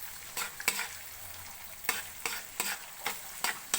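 Fried rice frying in margarine makes a quiet sizzle, interrupted by sharp, regular scrapes of a spatula stirring and tossing the rice in the pan.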